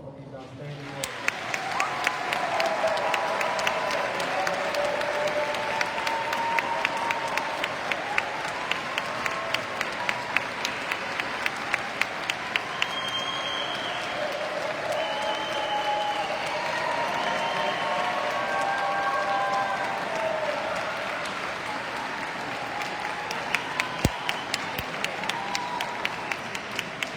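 A large crowd applauds steadily and at length for graduating warrant officers at their ceremony, dense clapping lasting throughout with a few sharper claps and light cheering rising above it.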